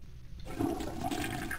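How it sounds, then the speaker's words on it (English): A toilet flushes inside the horror shooter Cultic, a sudden loud rush of swirling water that starts after a brief quiet moment and carries on steadily to the end. "I want to flush it down the toilet."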